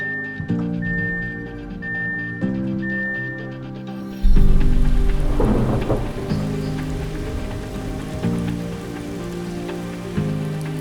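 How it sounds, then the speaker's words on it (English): A rainy, windy March thunderstorm in London, Ontario, heard as steady rain drumming on a surface, with a deeper rumble swelling in partway through and sustained patter beneath a musical backing. "It is a rainy, windy day. There's been lightning, thunder"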